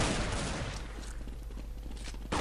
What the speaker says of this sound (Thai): ปืนนี้มันยิงได้ทีละ3นัดเราก็ต้องลั่นปืนทีละ3นัด